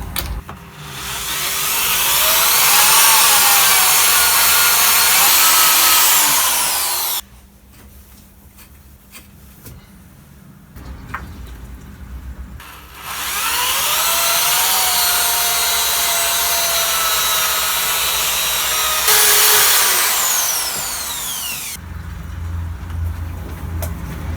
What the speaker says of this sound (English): then I'll go back over with the 2000 grit.